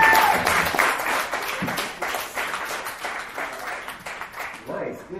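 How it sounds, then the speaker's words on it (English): Comedy club audience at a Flint, Michigan dive bar breaks into steady applause, dense clapping filling the room for several seconds with voices mixed in underneath. "Another round of applause for"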